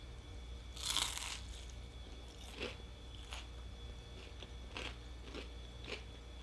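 Biting into a crunchy Taco Bell hash brown from a breakfast box, one loud crisp bite followed by several quieter crunching chews spaced a second or so apart, close up with no talking.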